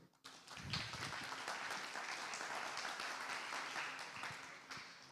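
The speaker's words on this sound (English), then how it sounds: "Please, an applause for you." Audience applause for finalist teams at a Hult Prize competition event in Peru, a steady wash of many hands clapping that swells quickly and holds for several seconds before tapering slightly.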